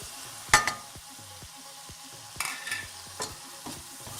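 Green chilli goes into a tomato gravy, with a soft frying hiss under a few sharp spoon strikes and scrapes against the pan, close and fairly quiet, with no talking.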